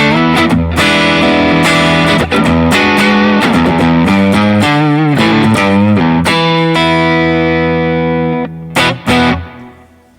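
An electric guitar played through a Klon overdrive pedal, loud and up close, with driven strummed chords and single notes ringing out, then a last chord fading out near the end.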